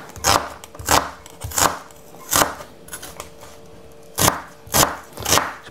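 Garlic for a Filipino shrimp sinigang is chopped with a knife on a board in a run of sharp, close chops with short pauses between them, loud and with no voice over them.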